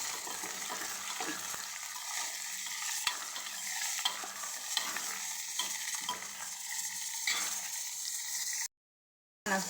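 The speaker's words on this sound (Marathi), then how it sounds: "टाकून घेऊ आपण कांदा आणि हिरवी मिरची छान मला परतून घेऊ आता" Onion and green chili sautéing in a hot pan, a continuous sizzle broken by frequent scraping stir strokes and clinks, cutting to brief silence near the end.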